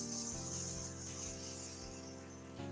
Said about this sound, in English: for our next grit, I'm going to use a 180 grit.